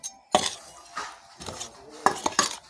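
Spiced meat with coriander, meat masala and oil being mixed by hand in a bowl gives a few close, sharp clinks and soft squelching strokes, in bursts with short pauses and no talking.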